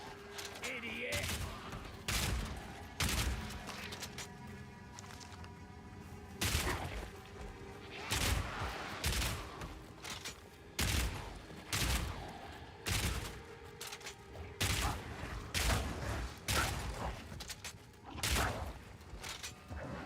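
Grenade launcher fire in Path of Exile 2 comes in rapid repeated bursts of sharp blasts and explosions, loud and rhythmic across the whole stretch with brief gaps between volleys.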